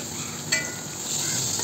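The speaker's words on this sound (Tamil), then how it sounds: "ஒன்று ஒன்றா இப்படி திருப்பி போட்டு நல்லா வேக வச்சு எடுக்கலாம்" Snake gourd masala vadai frying in hot oil: a steady, dense sizzle and crackle, close and continuous, with a small clink partway through and the frying growing slightly louder toward the end.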